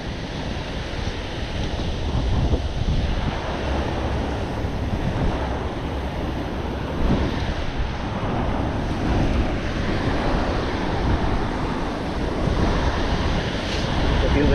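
Messy, choppy surf rolls onto a Southern California beach in a steady, loud wash of breaking waves, with constant wind noise across the microphone throughout.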